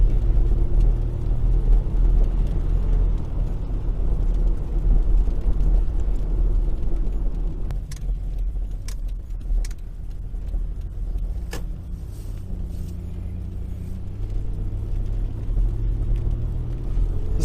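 2000 Toyota Estima G-Spec V6 AWD van driving, a steady low engine and road rumble that swells slightly as it accelerates, with a few faint clicks in the cabin.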